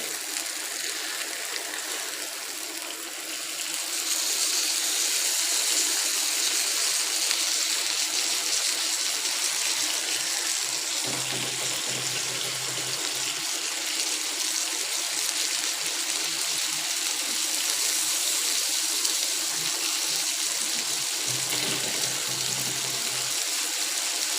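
Chappal kabab mince cooks over a low flame, giving a steady, even sizzle that hisses continuously throughout with no talking.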